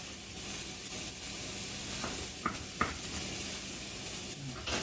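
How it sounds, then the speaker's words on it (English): Chopped yellow peppers sweat and roast in a pan for matbucha, giving a steady, quiet sizzle with a couple of faint clicks and pops. "I sweat them and roast them a little bit in the pan"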